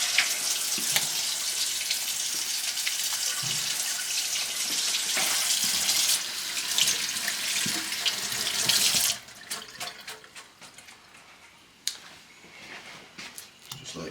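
Tap water runs steadily into a sink as corn is rinsed for a seafood boil; the loud rushing flow cuts off partway, leaving quieter splashes and drips.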